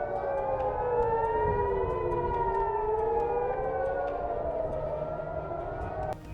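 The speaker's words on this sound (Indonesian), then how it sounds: "Namun sirine peringatan berbunyi di berbagai wilayah dan warga terpaksa mengungsi." A civil defense air raid warning siren wails over rocket alerts in Israel, a loud continuous rising and falling tone that carries through without speech.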